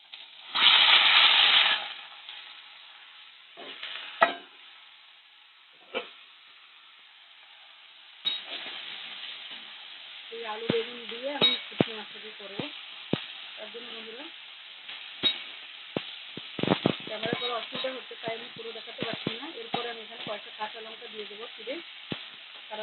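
Eggplant stirred and frying in hot oil with mustard seeds, with intermittent scraping of a utensil in the pan, sizzling bursts and a loud hiss at the start, close by.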